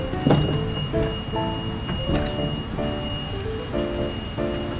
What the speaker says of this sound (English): Why is it making that beeping noise?